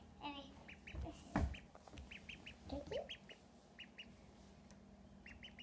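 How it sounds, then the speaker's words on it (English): Several cute ducklings give short, repeated high peeps and quacks in quick bursts, fairly faint, with handling and rustling noises and a louder thump nearby. "But these are cute duckies."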